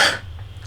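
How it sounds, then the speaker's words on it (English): One short, close cough or throat-clear, sharp at the onset and quickly fading into quiet room noise. "You would think I wouldn't have this cough anymore, but I still do."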